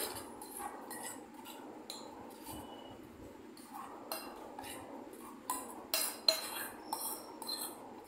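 A spoon clinks and scrapes against a bowl while stirring strained liquid flavoured with cardamom, soft intermittent metallic taps and clinks building toward a few sharper knocks near the end.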